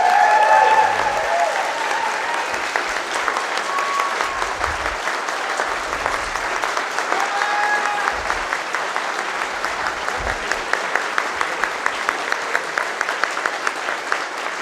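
A seated audience at a presentation applauds continuously for about fifteen seconds, a dense, even patter of many hands with a few louder individual claps toward the end.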